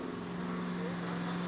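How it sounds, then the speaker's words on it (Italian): A Fiat 190-42 pulling tractor hitched to the sled at a tractor-pulling event in Babano di Cavour revs hard, a steady, loud, distant engine drone with a strong low hum. "motore su di giri"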